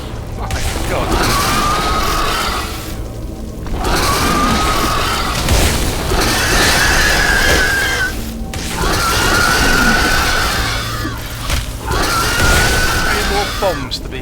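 Bombs explode in the video game Beleaguered Castle, a loud sequence of repeated booming blasts with rumbling decay, each burst lasting a few seconds and followed by short gaps.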